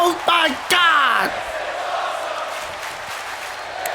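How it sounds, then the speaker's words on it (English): Arena crowd in the WWE 2K24 video game at an NXT wrestling show, a loud roar of cheering and whoops rising in bursts and then holding as a steady din, with shouting voices on top. "this crowd here loving every minute of it"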